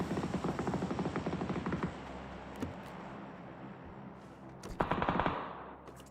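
Rapid bursts of gunfire from PUBG, including sniper shots, crackle through the first two seconds over a steady helicopter-like drone, then a lone shot near 2.6 s and a louder burst near 5 s.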